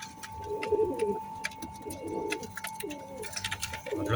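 Omani pigeons coo in repeated soft, throaty phrases close by, over a steady background hum and scattered clicks.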